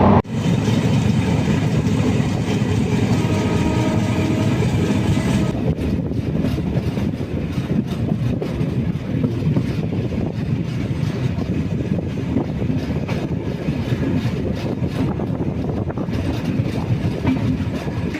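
A passenger train, the Uday Express, rumbles steadily along the rails with a continuous roar and rattling clatter, heard loud and close from on board.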